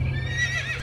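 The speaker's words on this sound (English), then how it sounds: "But yeah, the horse noises are very loud." A horse neighs loudly in the video game Quinfall, a short whinny with a hint of hoofbeats over a steady low in-game hum.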